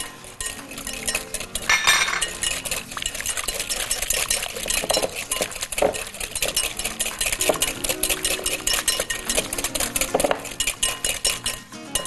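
A metal spoon stirs a garlic, yogurt and mayonnaise sauce in a bowl, with loud continuous scraping and clinking of the spoon against the dish throughout.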